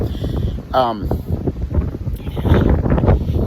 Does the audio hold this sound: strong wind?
yes